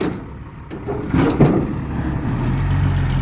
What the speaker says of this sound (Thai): สภาพยังดี เสียงเครื่องยังแน่นนะ